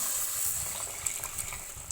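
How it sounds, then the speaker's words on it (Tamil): Dissolved tamarind water is poured from a vessel into a pot of stingray fish curry, a brief continuous gushing splash of liquid, fairly close, with no talking. "நம்ம கரைச்சி வச்ச புளியை தூக்கி இதில் ஊற்ற போகிறோம்"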